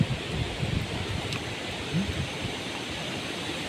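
Strong wind rushes across a mountainside in a broad, steady roar, with gusts swelling and easing and a faint rustle on top, continuous with no voices.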